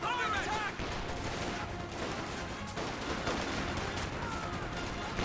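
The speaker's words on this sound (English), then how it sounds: "sounds like a barrage" Artillery barrage in the strategy game Company of Heroes 2, with dense overlapping blasts and gunfire rolling continuously under a commentator's voice throughout.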